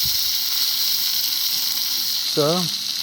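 Fish sizzles and hisses steadily as it fries in hot oil, a loud continuous crackle, with a short voice briefly heard near the end.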